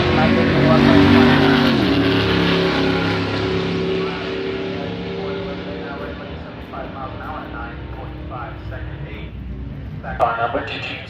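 Drag racing cars launching down an eighth-mile strip at a beater-car drag race, a loud broad engine roar that slowly fades as they pull away, with an announcer talking over it and a brief sharp burst near the end.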